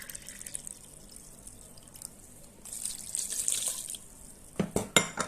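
Water poured into a cup while mixing pizza dough ingredients, a splashing trickle rising toward the end with a few louder splashes and clinks near the close, heard close up with no talk.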